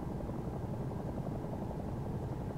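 Steady helicopter engine and rotor drone from the X-Plane flight simulator, a constant loud low rumble with no breaks and no talking.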